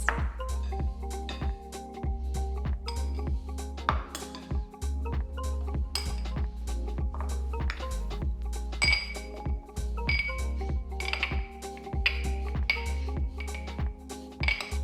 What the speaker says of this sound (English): Then we're gonna kind of press it down with a little shot glass.